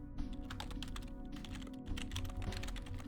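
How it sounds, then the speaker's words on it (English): Quick, steady keystrokes rattle on a computer keyboard in a quiet room, a close and fairly soft stream of clicks with no talking. "Let me type things out."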